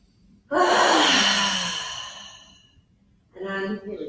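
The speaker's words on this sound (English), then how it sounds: "Everyone, big inhaling. And as you exhale, again, inhale. Loudly. One more." Yoga group doing deep breathing, a long loud exhale that trails off, a brief pause, then another strong breath beginning, close and unaccompanied by talk.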